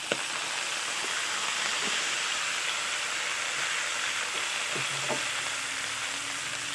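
Fish sauce going into a hot pan of field rat frying with garlic and black pepper: a loud, constant sizzling hiss with a few light clinks of utensils.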